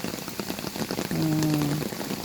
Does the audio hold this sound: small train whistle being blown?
no